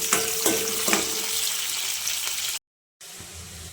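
Dried red chillies and curry leaves sizzle in hot oil for a tomato curry while being stirred, a steady close frying hiss with a few scraping strokes, cut by a brief gap of silence before the sizzling resumes.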